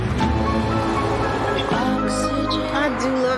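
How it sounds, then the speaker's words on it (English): Steady roar of passing highway traffic, a broad continuous wash of rumble and hiss like distant surf, with voices talking over it. "I do love that highway sound."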